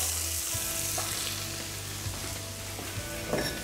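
Onions and peppers fry in oil with a steady close sizzle and occasional stirring scrapes, continuous and with no talk.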